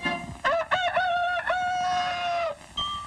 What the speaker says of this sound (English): let's begin when the farm day begins, with the first cockscrow